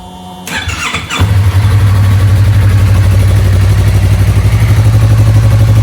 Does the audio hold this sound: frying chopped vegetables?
no